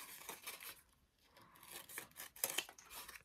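Scissors cut through paper for clematis paper-flower petals in a quiet run of short, crisp snips and rustles, close up with no talking.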